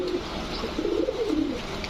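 A male Indian Kakji pigeon coos in low rolling phrases, close and continuous, with no voices over it.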